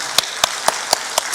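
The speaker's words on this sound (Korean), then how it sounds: "우리 잘 오셨다라고 서로 박수 한번 할까요?" A church congregation clapping together: a short run of sharp, evenly spaced claps, about five in steady rhythm, fairly close and with no talk over them.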